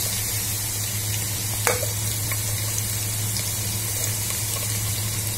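Ginger and chopped garlic frying in a pan, a soft steady sizzle with a low hum beneath and one brief clink near the start.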